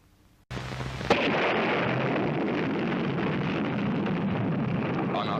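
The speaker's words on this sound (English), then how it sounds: "Barry Goldwater said of the nuclear bomb, merely another weapon." A nuclear bomb explosion in a 1964 presidential campaign commercial bursts in suddenly after near silence and becomes a loud, sustained roaring rumble that holds for several seconds.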